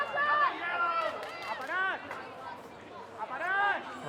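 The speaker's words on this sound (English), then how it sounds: "I can hear the Canterbury crowd calling for a yellow card there" Canterbury supporters at a women's EuroHockey Club Cup field hockey match in 's-Hertogenbosch yell and call out together, rising and falling in loud bursts of overlapping voices.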